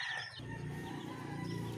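Chicks and a hen in a cage give soft peeping and clucking calls, faint and close, over a short stretch with no talk.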